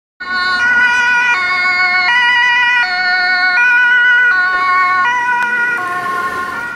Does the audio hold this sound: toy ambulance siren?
yes